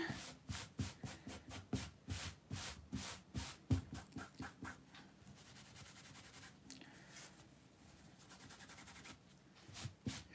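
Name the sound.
wiping residue off a shirt with a sock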